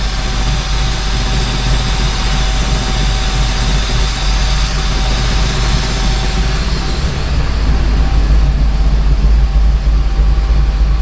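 A Holden Torana's engine idles too low with the car shaking, a loud, steady engine drone with a low rumbling hum that holds constant throughout, rising slightly near the end.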